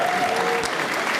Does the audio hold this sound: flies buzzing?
no